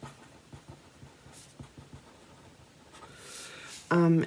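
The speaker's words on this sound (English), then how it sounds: "I need to write some notes for myself." Pen scratching out handwritten notes on paper, a soft irregular scribbling close by and fairly quiet, with a brief burst of speech at the end.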